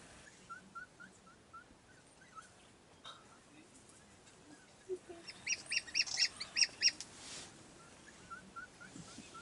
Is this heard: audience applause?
no